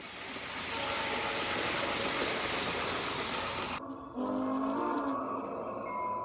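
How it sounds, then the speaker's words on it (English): A model diesel locomotive horn sounds a long, steady blast that cuts off, followed by a brief second tone over the rumble of rolling wheels. "You'll notice that 3177's whistle changes from time to time."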